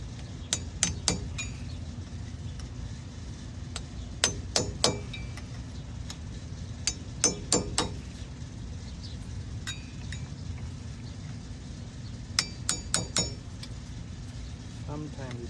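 Light metallic hammer taps ring out in short bursts of two or three strikes on a 2010 Ford F-series wheel hub, spaced irregularly over a low steady engine-like hum.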